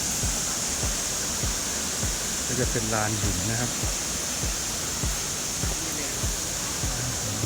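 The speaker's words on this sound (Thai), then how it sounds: "ที่นี่คือน้ำตกตาดแดงนะครับ" Steady broadband rush of a waterfall at Tat Ton in Chaiyaphum, continuous and close, with someone speaking over it and footsteps on stone.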